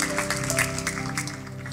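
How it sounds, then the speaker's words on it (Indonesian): A church congregation claps together briefly, a dense burst of applause with a steady tonal hum beneath, heard up close and without speech. "Oke, kita beri tepuk tangan puji Tuhan."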